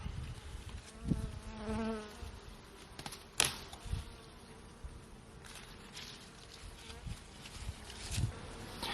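A honeybee swarm hanging on a branch buzzes softly and continuously, with a few nearer bees droning past and some rustling handling noises close by.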